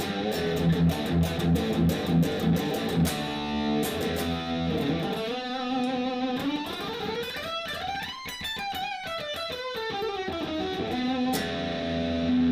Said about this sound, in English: Bridge pickup, distortion.